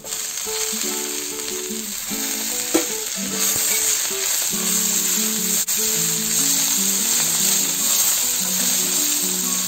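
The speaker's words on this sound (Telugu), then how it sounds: "మనము ఆనియన్స్ కొద్దిగా లైట్ బ్రౌన్ కలర్ వచ్చేంత వరకు ఫ్రై చేసుకున్నాము" Onions fry with mint and coriander leaves for a catfish dum biryani, a steady, fairly loud sizzle that runs throughout, with a faint musical tone underneath and one brief clack.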